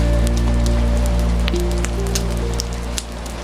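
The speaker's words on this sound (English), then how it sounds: "the rain continues, but more gently now, as if even the storm has grown sleepy" Soft rain falls through a quiet night, a steady even patter on a surface with a low constant hum beneath and no voices.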